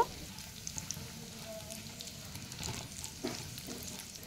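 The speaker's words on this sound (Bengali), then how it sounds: "এবার কিশমিশটাকেও কিছুক্ষণ নেড়েচেড়ে ভাজা ভাজা করে নেব।" Cashews and raisins crackle and sizzle in hot fat in a pan as they are stirred, a steady close frying hiss with scattered small pops and occasional scraping knocks, no voices.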